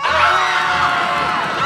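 A crowd screams and cheers loudly in a short, dense burst of overlapping shrieks and whoops, with no talk over it.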